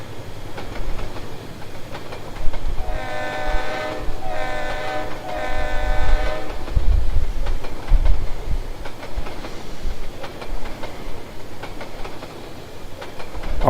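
A Conrail RS5 diesel locomotive in the Trainz railroad simulator sounds a loud multi-tone horn in three blasts over a rumbling engine and rolling rail noise.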